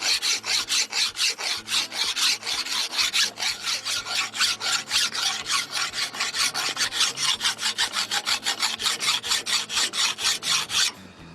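A forged camp knife blade clamped in a vise is worked with rapid, regular rasping strokes, loud and close, continuing evenly for about eleven seconds without talk.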